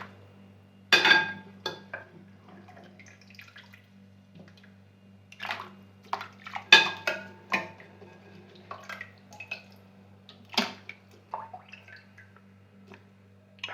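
Potato pieces dropped into a pot of boiling water, with several sharp splashes and plops, wet clinks against the pan, and quieter drips spread across the stretch over a steady low hum.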